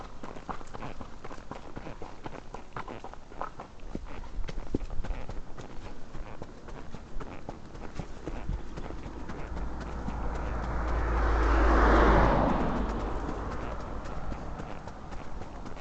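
Hooves of a young horse walking on concrete during a ride, a steady clip-clop of footsteps close by, swelling briefly louder near the end with some rustling around it.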